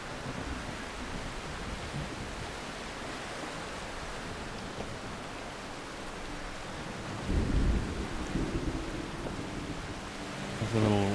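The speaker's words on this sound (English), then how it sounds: "There's a little rumble of thunder." Steady rain pours in the video game Voyagers of Nera while a low rumble of thunder rolls in partway through. Both come through loud and close, and no one talks over them.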